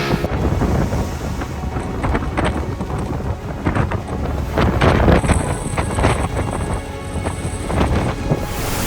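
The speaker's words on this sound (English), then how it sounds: "That's a 40-knot gust." A strong 40-knot wind gust on an island roars and buffets the microphone, loud and sustained throughout, with a brief surge of intensity partway through.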